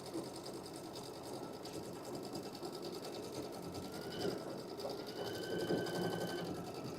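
Sewing machine steadily stitching a quilted fabric panel for an advent pouch, a continuous close mechanical hum with a rhythmic needle patter that swells slightly toward the end.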